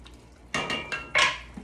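A wooden or metal spoon clinks and scrapes against a pot while a bay leaf and a rosemary-and-thyme herb bundle are stirred into a pot roast: four short, close knocks, the last one loudest.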